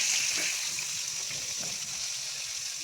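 Pabda fish fry in a pan over a non-gas cooking fire, giving a steady, loud, hissing sizzle that stays constant throughout with no voices.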